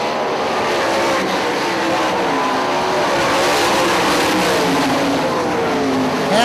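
Sprint cars race at Hartford Speedway Park, engines roaring loud and continuous as the field passes, with rising and falling pitch and a hint of tire scrub, no talk.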